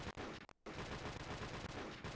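Rapid M21 rifle fire in the video game Modern Warfare Remastered, a dense, loud burst of shots with a brief gap midway, then continuing steadily to the end.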